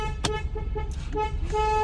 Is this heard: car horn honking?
yes